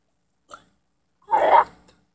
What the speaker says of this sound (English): More burping.